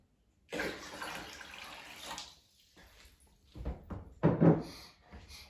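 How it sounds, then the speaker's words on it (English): Water is poured into the tank of an Aquatree, a close, splashing rush that starts abruptly, runs for about two seconds, then returns in a few shorter bursts with knocks in between. "First you fill up the tank"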